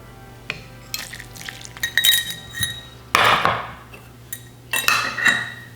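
A fork mixes beef tallow pie crust dough for peach hand pies, producing a series of sharp, irregular metallic clinks and scrapes against the bowl at close range.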